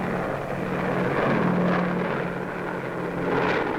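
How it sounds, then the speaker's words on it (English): Massed 1943 B-24 Liberator four-engine bombers drone overhead in a dense wave, a loud steady propeller roar with a low pulsing hum that swells and eases slightly, with no voices. "500 huge bombers in wave after wave"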